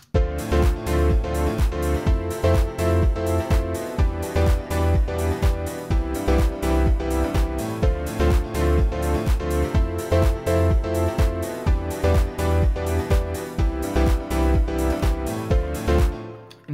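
A piano house drop built in Logic Pro X pounds out a steady four-on-the-floor kick under bright, reverb-washed piano chords, loud and continuous for about seventeen seconds.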